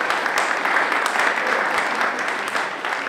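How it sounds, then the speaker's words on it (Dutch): Applause from the audience at a mayor's New Year's speech in Goirle, a continuous wash of many hands clapping at moderate volume throughout, without speech. "Ja, een applaus voor haar."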